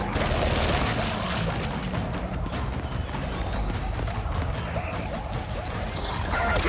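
Gunfire in the Gears 5 video game during a jungle-set DLC level, dense rapid bursts of shots and impacts continuing throughout at steady loudness, with a little faint talk.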